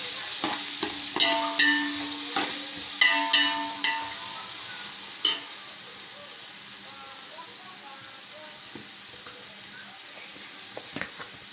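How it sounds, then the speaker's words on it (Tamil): Onions sauté in a pan for biryani, a soft steady sizzle running throughout, with a few sharp spoon clinks and a voice talking near the start before the frying continues alone. "வெங்காயம் வதங்கட்டும் வெயிட் பண்ணலாம்"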